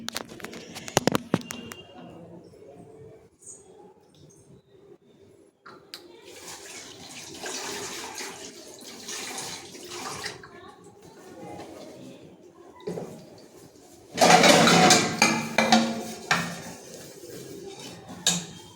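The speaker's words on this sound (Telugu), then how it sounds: "ఇప్పుడు అంట్లు తోమాలి" Dishes being scrubbed and rinsed under running water at home. Clattering and splashing come in patches, with quieter gaps, then build to a louder, dense burst of water and clinking near the end.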